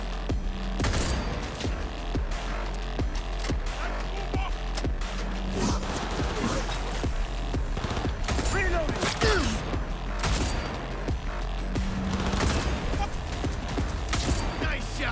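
Heavy gunfire from a big gun in the video game Cyberpunk 2077: repeated loud booming shots in bursts, with game sound effects around them.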